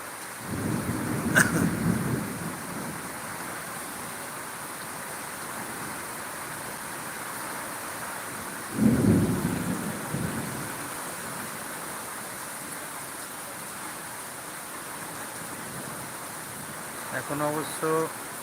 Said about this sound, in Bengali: প্রচুর পরিমাণের বজ্রপাত হচ্ছে